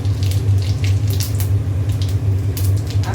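Whole cumin seeds sizzle steadily in hot oil in a pan, a close, continuous crackling hiss with a faint low hum beneath it and no voices, part of cooking masala paneer.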